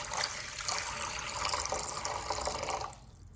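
Tap water runs into a cooking pot being filled for poached eggs, a steady rushing splash that stops abruptly near the end.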